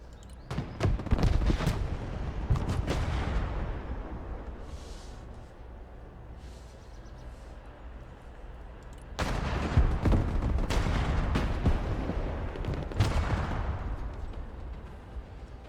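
Rapid bursts of gunfire crackle through a Broken Arrow battle, dense volleys opening and closing the stretch with a quieter, sporadic lull of distant shots in between.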